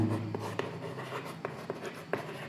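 Chalk tapping and scratching on a blackboard during a maths lesson, with a few separate sharp strokes over a faint room hum, close and without talk.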